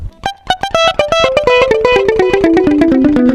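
Palm-muted electric guitar picking through a dotted-eighth delay, short clipped notes multiplying into a rapid rhythmic stream that steps downward in pitch, loud and alone.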